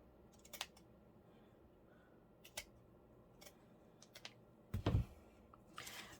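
Scissors snipping through a small paper image, sparse crisp close cuts spread out with pauses between them, one louder chunky snip near the end, no talking.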